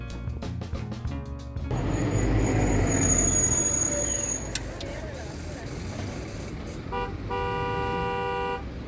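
Busy street noise in Tuxtla Gutiérrez, Chiapas, Mexico rumbles steadily with passing vehicles, and a car horn sounds near the end over the traffic, with some talk early on.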